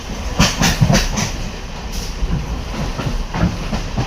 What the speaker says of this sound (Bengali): ওইদিকে দেখুন একটা ট্রেন ক্রসিং করছে এটাও আপ শান্তিপুর লোকাল